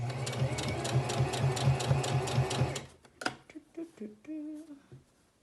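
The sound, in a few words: sewing machine stitching fabric face mask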